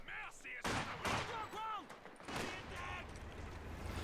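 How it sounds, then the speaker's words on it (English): Gunfire from riflemen opening up on conscript infantry in a WWII real-time strategy game battle, sharp bursts and overlapping shots over a busy battlefield mix, with a voice talking throughout. "Ostrupen opening fire on the conscripts"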